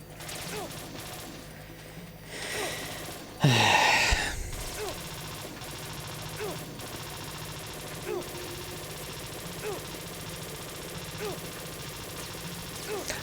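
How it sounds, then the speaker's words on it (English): A single loud burst of gunfire rings out in Metal Gear Solid 2, standing above a steady bed of game ambience and scattered softer clicks and effects. "Loud gunshots all over the thing."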